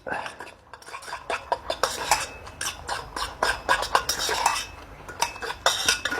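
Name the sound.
stirring a chicken noodle protein meal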